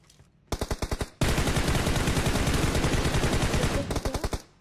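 Automatic gunfire in PUBG Mobile, a short burst of rapid shots, then a long sustained dense volley, then another quick string of shots, all loud and close with no voices.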